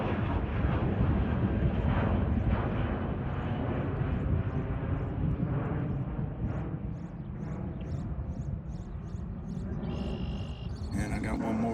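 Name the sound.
airplane departing Bozeman airport runway 12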